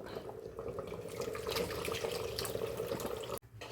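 Tamarind water pours and splashes steadily into a pot of sambar curry, close by, ending abruptly near the end.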